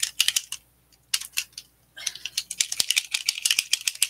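A small Distress Ink bottle shaken hard by hand, a fast close rattle in bursts with short pauses between them, no talking.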